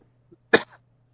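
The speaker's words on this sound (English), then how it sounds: "I apologize in advance for the coughs because they're going to happen and they're coming at you fast" A single sharp, close cough bursts out on its own, followed by a short trailing rasp, with a faint low hum running underneath.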